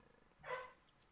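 A single dog bark rises briefly in the middle of a quiet room, moderately close and lasting only a moment before fading back to low background hum.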